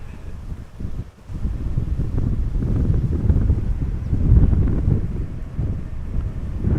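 Strong crosswind at Amsterdam Schiphol Airport buffets the microphone in continuous loud, low rumbling gusts, briefly dipping before roaring on steadily.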